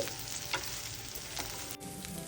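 Bitter gourd fries in a pan and is stirred now and then: a steady, soft sizzle with occasional scrapes of the stirring, heard alone.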